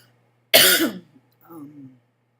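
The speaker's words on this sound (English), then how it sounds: "coughing up a storm here" One harsh, forceful cough close by, followed by a softer throat-clearing rasp, with quiet in between.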